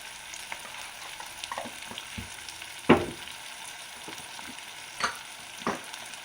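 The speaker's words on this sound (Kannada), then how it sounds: "ಈರುಳ್ಳಿ 1-2 ನಿಮಿಷ ಫ್ರೈ ಆದರೆ ಸಾಕು." Onions fry with turmeric in a pan, giving a soft, continuous sizzle broken by a few sharp clinks and scrapes of stirring.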